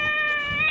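Short, clear meow from a cat in a video game, a single steady tonal cry heard close and alone.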